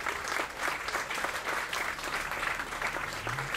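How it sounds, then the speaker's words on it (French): Audience applause at a literary prize ceremony held in a café, steady dense clapping from a room full of people sustained throughout, fairly close and even. "On peut l'applaudir."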